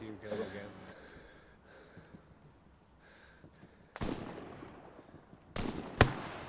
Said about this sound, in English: I'm gonna chuck a nade near him